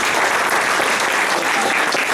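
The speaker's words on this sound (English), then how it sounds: "so give yourselves a round of applause." A room full of people at an association event applauds continuously, a dense steady wash of clapping hands that holds at an even level throughout with no voices breaking through.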